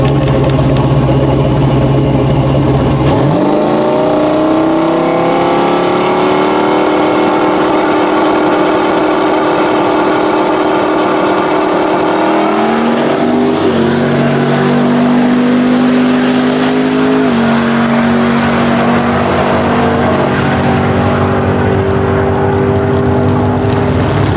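A twin turbo Ford Mustang launches on a drag strip, its loud engine note climbing steadily in pitch and then dropping sharply at a gear change before pulling hard again, with no talk over it.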